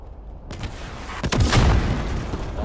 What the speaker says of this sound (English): He just took out my arm with an RPG.